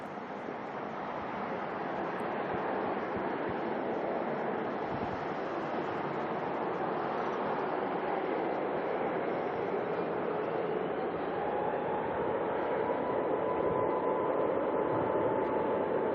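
A departing Boeing 787 jet at Auckland Airport, heard as a continuous loud broadband roar that builds slightly toward the end, with no voices.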